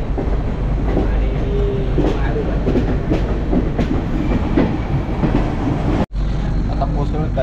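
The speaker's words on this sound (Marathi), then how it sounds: "ट्रेन चालली आणि" An Indian Railway passenger train on the Mumbai to Kolkata route rumbles steadily along the rails with continuous loud carriage noise and faint wheel clatter, briefly cutting out near the end before resuming.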